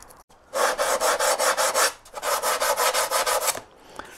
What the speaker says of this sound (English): To make sure I get a good glue bond, I'm going to roughen up all these surfaces on the motor mount.